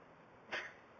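A single short sneeze at a park, sudden and fairly faint against a quiet outdoor background.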